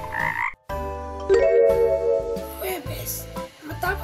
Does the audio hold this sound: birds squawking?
no